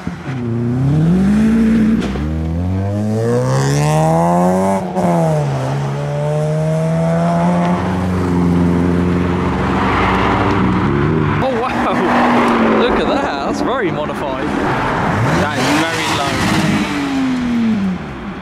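A caged Vauxhall Corsa track car drives out of Castle Combe circuit, its engine revving loudly and rising in pitch through the gears, with other cars nearby and people talking over the noise.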